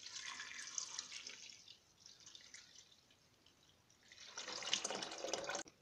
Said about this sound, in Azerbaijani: Lobyanı əlavə edirəm. Və su əlavə edib